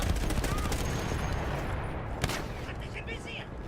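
Rapid gunfire and explosions in the Battlefield 1 campaign, dense and continuous throughout with a sharp louder crack near the middle, a voice speaking briefly over the din.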